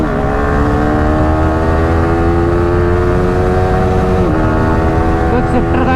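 A 2026 Bajaj Pulsar 220F or Yamaha R15 V4 motorcycle pulls hard through the gears with a quick shifter, a loud steady engine drone with a brief dip and quick shift into fifth gear, heard close with wind rush.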